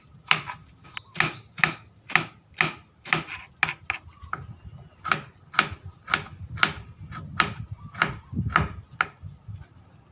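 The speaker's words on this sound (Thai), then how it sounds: "นำมาหั่นหรือ ว่าสไลด์บางๆนะครับ" Close, steady knife chopping of banana blossom on a cutting board, about two sharp strokes per second in an even rhythm with no voices.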